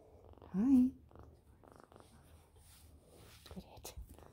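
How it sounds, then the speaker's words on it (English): A galah cockatoo purrs like a cat in a brief, soft rumbling burst close by, with faint vocal sounds and quiet talk around it. "That's a purring little birdie."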